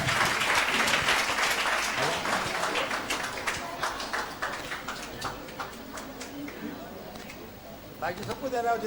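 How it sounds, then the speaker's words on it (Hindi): A crowd at a Teachers' Day gathering claps in welcome as children receive prizes, loud, dense clapping that gradually thins into scattered claps, with talk running underneath. "आपके सबके लिए स्वागत में तालियां सबके लिए।"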